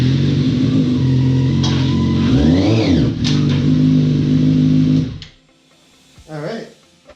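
Big motorcycle rolling onto a motorcycle chock, its engine rumbling loudly up close with a brief rev, then cutting off; a voice speaks briefly near the end.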